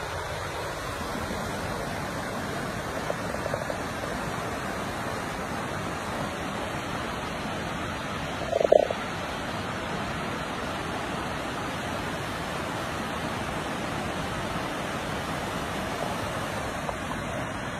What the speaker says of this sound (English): there's a flowing river